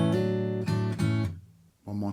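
Acoustic guitar strums a section: a few bright, ringing chord strokes that sustain, a short near-silent gap, then another chord, played close and clear.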